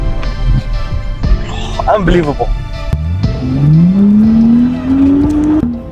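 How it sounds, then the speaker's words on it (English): Remapped rear-wheel-drive BMW M135i with 322 bhp accelerating hard on a wet road in rain, engine note rising steadily in pitch as it pulls through the rev range, loud and close from inside the cabin, with a voice exclaiming over it. "You put your foot down and you hear the car."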